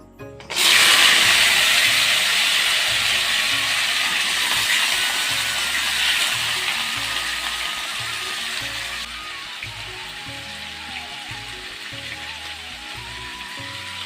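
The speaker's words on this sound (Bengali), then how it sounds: "তেলটা গরম হয়ে গেছে, এখন আমি আলুগুলো ফ্রাই করে নেব।" Potatoes fry in hot oil in a pan, a loud, steady broadband sizzle that starts abruptly as they go in and then eases slightly while continuing without pause.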